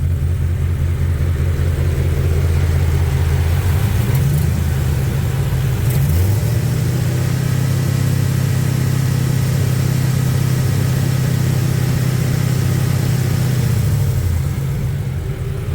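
A V8 engine in a Plymouth Cuda with an LS swap and an exhaust leak runs loud and close, holding a deep rumbling idle with a couple of quick revs, then settling until it fades near the end.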